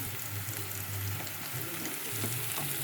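Onion frying in a pan with turmeric and ginger garlic paste added, giving a steady, dense sizzle with faint scraping stirs, close and continuous throughout.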